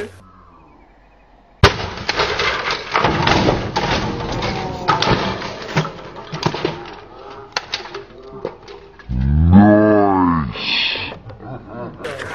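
A sudden loud bang rings out, followed by a rapid rattle of clattering thumps and hissing, then a low whooshing swell near the end.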